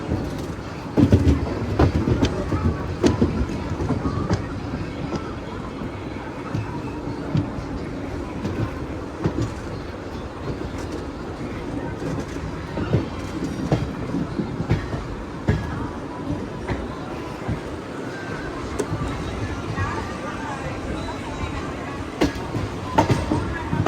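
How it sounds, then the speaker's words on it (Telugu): A MEMU passenger train rolls over track points, a steady rumble broken by repeated sharp wheel clicks and clatter as it crosses, heard from on board with some faint speech. "ట్రైను ఎక్స్ట్రాక్ట్స్ మించి వెళ్తున్నప్పుడు సౌండ్ వస్తుంది."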